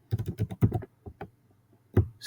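Typing code on a computer keyboard: a quick flurry of close, crisp key clicks, then a pause with a few scattered taps and a final firm keystroke.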